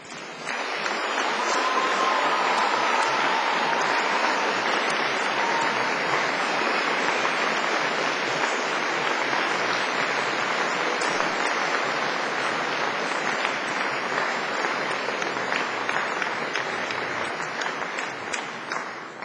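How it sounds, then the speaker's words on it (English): Graduates at a Cardiff University graduation ceremony give their families a big, sustained round of applause, a steady, loud roar of many hands clapping that holds for about twenty seconds with little talk. "show your appreciation by giving them a very big round of applause to say a public thank you"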